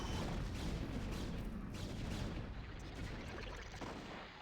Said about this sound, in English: There's still explosions happening everywhere.